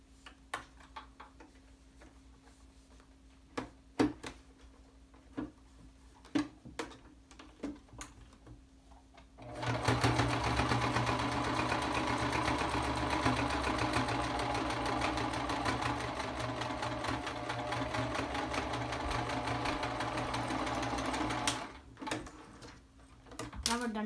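A sewing machine stitches a fabric face mask, a close steady whirring run of about twelve seconds with light mechanical clicks before and after it, and a person talks during the quieter parts.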